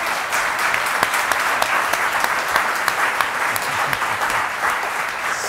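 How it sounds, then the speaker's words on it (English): Steady audience applause at a talk on climate in the national parks, continuous close clapping with a few sharper claps standing out, and no voices on top. "You can clap for that."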